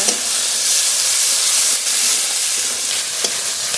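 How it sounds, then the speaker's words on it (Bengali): Chopped onion and tomato fry in a pan for a Bengali rohu fish curry, giving a steady, close, loud sizzle with a few sharper crackles and no voices over it. "টমেটো কুচি পেঁয়াজ টমেটো একটু হালকা করে ভেজে নেব"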